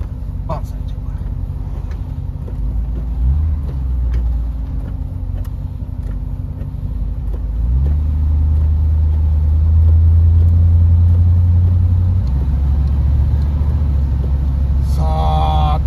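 Carbureted engine of a 1950 Lincoln fitted with new plug wires idles with a low, steady rumble that deepens and grows louder partway through, as someone speaks over it.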